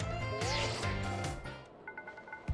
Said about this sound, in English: Rogue, your phone's ringing.